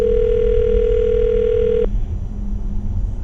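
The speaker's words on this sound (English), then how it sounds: "I'm going to dial the phone number right now" A steady telephone dial tone hums for a couple of seconds, then cuts off, leaving a low background rumble.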